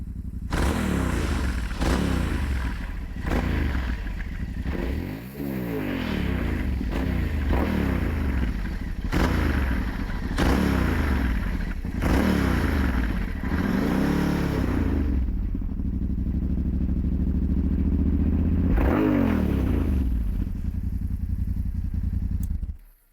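A Yamaha Tenere motorcycle idles and revs with its exhaust running, loud and steady, with several throttle blips rising and falling throughout before it cuts off abruptly at the end.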